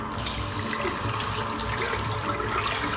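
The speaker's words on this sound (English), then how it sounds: "just a little bit of hot water, rinse it over, and that's it, rinsed" Hot tap water running to rinse shaving soap off, a steady close splashing rush of water from a faucet into a sink, continuous for the few seconds with no talking.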